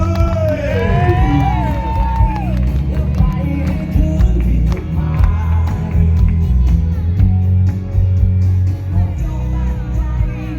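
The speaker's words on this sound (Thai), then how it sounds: "ขอเสียงปรบมือต้อนรับ" Cheering and applause from a live crowd at a touring Thai singing-contest show at Ninja Market in Chonburi, loud and continuous, with shouts and babble throughout and a voice calling out over the noise.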